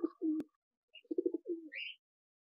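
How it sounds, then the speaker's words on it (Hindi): Soft, low pigeon coos in short bursts, several close calls with brief pauses between them. "सारे कबूतर बाहर आ रहे हैं"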